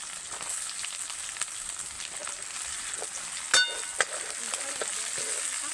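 Onions with garlic, ginger and green chilli paste frying in oil for a village-style Kathiyawadi shing bhaji shaak, a steady close sizzle with a few sharp clinks of a spoon against the pan.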